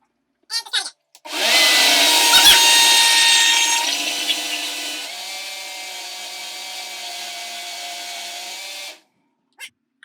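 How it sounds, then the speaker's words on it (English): A countertop blender whirs loudly while blending hummus with added olive oil, a steady motor roar lasting about eight seconds that eases slightly in pitch partway through, with brief clatter just before it starts and after it stops. "If your blender is having trouble blend stuff up or it feels like it's too stiff, I always like to put some more liquid in there."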